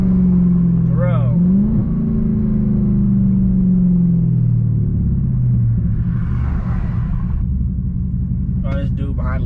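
Dodge Charger Hellcat engine heard from inside the cabin as a loud, close, deep rumble that swells with revving and shifts in pitch, with voices talking over it near the end.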